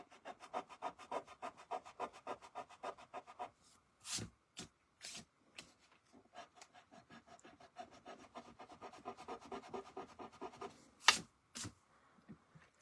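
A tool is rubbed firmly across a fun-fold paper greeting card in quick, even strokes, then in slower separate scrapes. The rubbing is close and fairly quiet, with no voices.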